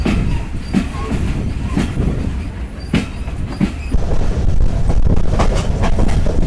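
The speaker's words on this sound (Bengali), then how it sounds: "আমাদের ট্রেন আব্দুলপুর জংশন স্টেশন ছেড়ে গেল বিকেল 5:40" Loud, continuous rumble of the Banglabandha Express running on the rails after leaving Abdulpur Junction, with rhythmic wheel clatter, occasional sharper clanks and wind buffeting throughout.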